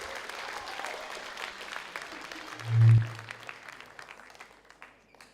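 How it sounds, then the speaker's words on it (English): An audience at a school debate gives steady, moderately loud applause for a speaker, a continuous crackling patter broken by a deep thump midway, then thinning and fading toward the end. "Round of applause for her."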